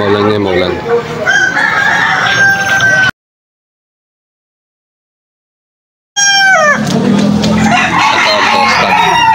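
A young rooster (stag) crows at a Malolos, Bulacan pet market on a rainy Sunday morning, two loud, close crows with a silent gap between them, over busy market murmur and other animal noise.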